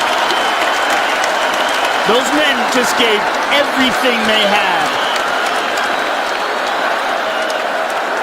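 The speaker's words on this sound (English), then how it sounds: "Unbelievable. This crowd is on its feet." A packed UFC arena crowd at McGregor vs Diaz 2 applauds and cheers continuously, a dense roar of clapping throughout while a commentator's voice speaks over it.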